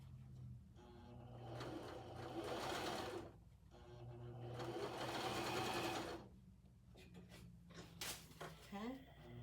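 Two sustained bursts of a sewing machine stitching a fabric seam, close and steady, with quiet pauses and handling noises between them and a voice speaking faintly.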